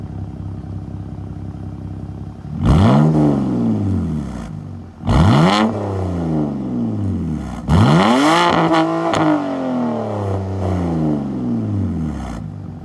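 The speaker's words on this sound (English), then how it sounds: "One main thing about this car that Doug DeMuro simply would not approve of is the exhaust note" A modified 2007 BMW 328i sits idling and then revs hard three times, each blip rising to a loud raspy exhaust howl and falling back toward a burbling idle.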